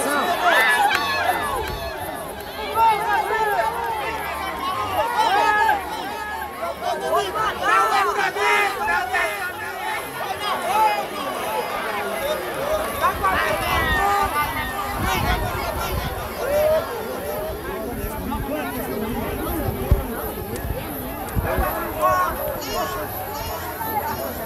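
Vale Real supporters at a municipal football championship match in Moreilândia-PE, a steady roaring crowd with dense babble and cheering throughout, loud and continuous with a commentator talking over it.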